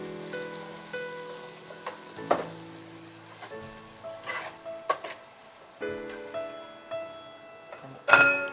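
Onions dropped into a pan for a home-cooked dish, with a soft, uneven sizzle and scattered clinks and stirring knocks rising and falling over a background hum; no one speaks.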